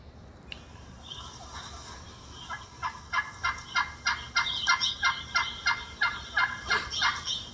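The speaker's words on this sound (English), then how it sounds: "First, let's listen to the plain yelping." A series of about a dozen raspy, evenly spaced turkey hen yelps from a pot call, starting softly and carrying on clear and close over a quiet background.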